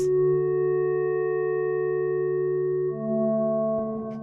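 A low, smooth synth layer of two sine waves made with Operator holds a steady chord, then moves to a second chord before fading out near the end.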